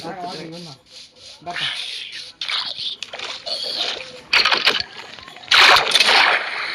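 Swimming splashes in Minecraft come as rough, noisy bursts that grow louder toward the end, with excited voices talking over the game sounds early on.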